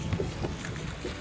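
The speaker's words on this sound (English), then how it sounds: "I want you to follow the sound of Will's engine" Fishing boat engine running steadily on the St. Lawrence River, a continuous low motor drone with wind and water noise, fairly close and moderately loud throughout.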